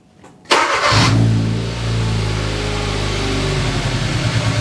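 A Hyundai GDI 1.6L engine on a training test bench cranks and fires up abruptly, then settles into a steady, close idle with an uneven, rough-running tone, no talking.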